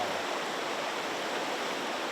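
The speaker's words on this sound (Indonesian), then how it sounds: "ini sungai besar" Broad steady rush of a large river flowing, continuous and fairly loud with no breaks, heard alone.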